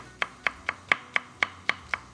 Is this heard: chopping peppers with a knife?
yes